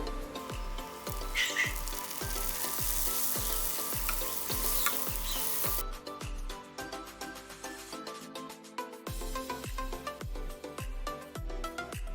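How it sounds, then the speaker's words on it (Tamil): Puri dough pieces fry in hot oil with a continuous, crackling sizzle, heard under rhythmic background music with a steady beat that briefly drops out. "நாங்கள் பட்டமாக வெட்டி வச்சுட்டு இனி பொரிப்போம்"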